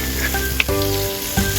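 Roasted eggplant sizzles and crackles in a hot pan during a quick, high-heat stir-fry, with close, steady frying noise and a few sharp spatula scrapes and clicks.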